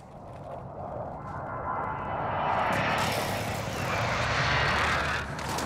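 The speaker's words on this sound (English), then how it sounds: "Friendly precision airstrike inbound." A precision airstrike aircraft in a video game flies in with a rising jet roar that grows steadily louder and broader, swelling to a sustained rushing pass near the end.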